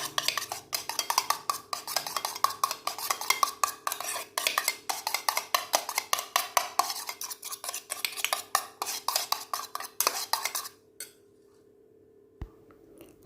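A spoon stirs egg yolk mixture for chocolate butter pudding in a bowl, producing steady rapid scraping clinks for about ten seconds before stopping, with one faint knock afterward.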